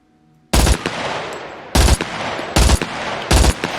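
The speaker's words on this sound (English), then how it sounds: "So we're going to do the 3-round burst." Four distinct three-round bursts from a rifle in the survival game SCUM, loud and close, spaced about a second apart with brief tails of echo between them and no talk.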